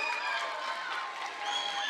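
A crowd claps for students at a 7th grade awards ceremony, a sustained, even patter of many hands with a faint murmur of the audience beneath, fairly quiet and distant.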